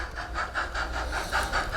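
A model train fitted with an ESU sound chip starts up, giving a steady run of rhythmic chuffing hisses that pulse evenly, fairly close and alone.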